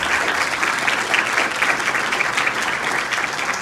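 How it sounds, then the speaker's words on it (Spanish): An audience at a nursing capping ceremony in Arecibo applauds the nursing students, a loud, sustained wall of clapping from a large crowd with no talking over it. "Un aplauso para todos nuestros estudiantes."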